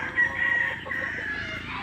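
Rooster crowing among chickens at a backyard poultry farm in wet, weedy ground, one drawn-out crow holding steady at moderate loudness over background clucking, no voices.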